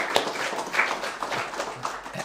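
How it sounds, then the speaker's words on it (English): Short round of applause from a small audience at a castle networking event, fairly close, uneven clapping with a few distinct claps and faint voices underneath. "I think you deserve a mammoth round of applause."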